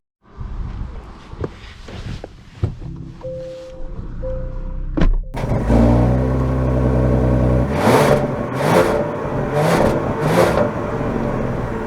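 A 2023 Genesis G90 luxury sedan starting off, with door and cabin thunks and clicks at first, then a smooth, steady engine hum and whir rising as it drives, joined by a few brief louder swells near the end.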